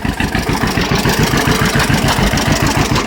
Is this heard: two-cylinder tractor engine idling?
yes